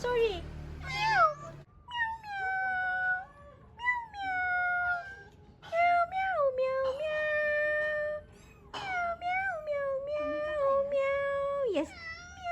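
A cat meows repeatedly at home, a long series of close, drawn-out calls with short gaps, while a person's voice also imitates the meows alongside it.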